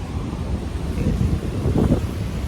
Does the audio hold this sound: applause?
no